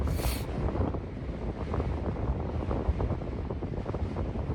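Strong wind at a remote Alaskan glacier lookout, buffeting the microphone in a steady, loud roaring rush that persists throughout without speech.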